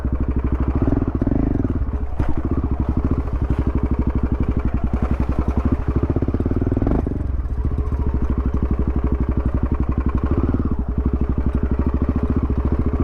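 A motorcycle ridden through a farm plantation, its engine chugging steadily and close for the whole stretch, with a few rough revving swells and clattering over the ground.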